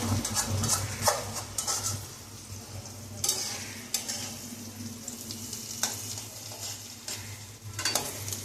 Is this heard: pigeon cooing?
no